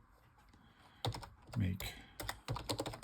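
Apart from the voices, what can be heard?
typing on Apple Newton keyboard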